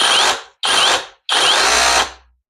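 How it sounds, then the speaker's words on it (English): A SEESII cordless rotary hammer runs in hammer-only mode in three loud, rapid-impact bursts with brief pauses between, the last burst longest, close up. "This is just the hammer now."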